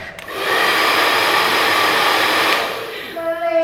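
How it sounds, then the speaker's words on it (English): A hair dryer roars steadily at close range for about two and a half seconds, starting and stopping abruptly, with a faint voice and household noise around it. "Just put the hairdryer on to drown him out."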